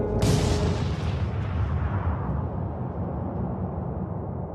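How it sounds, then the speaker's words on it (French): Trinity atomic bomb test detonation of a 21-kiloton device in open desert at dawn: a sudden loud boom that swells into a long, heavy rumbling roar, slowly decaying over several seconds with no voices. "À 5h30, la détonation de la bombe dégage une énergie de 21 kilotonnes de TNT."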